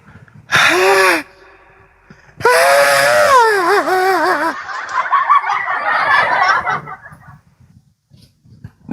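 Chickens in a neighbour's coop let out loud, strained squawking calls, two long bursts close by, the second trailing into rough cackling.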